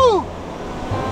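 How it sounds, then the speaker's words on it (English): Surf on a beach during a typhoon-driven tropical storm, a broad steady wash of waves and wind noise. A brief tonal sweep sounds at the very start, and a low rumble returns near the end. "So this is the beach."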